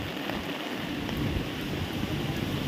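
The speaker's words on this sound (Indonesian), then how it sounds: "Tuh anginnya mulai datang, guys." Strong typhoon wind at signal level 8 in Hong Kong roars in a loud, continuous rush with heavy low-end microphone buffeting, no talk.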